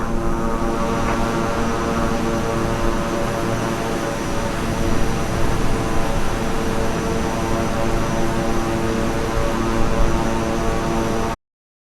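Beechcraft King Air twin turboprop in flight, a loud steady propeller and engine drone with constant tonal hum and no letup until it cuts off abruptly near the end; nobody speaks.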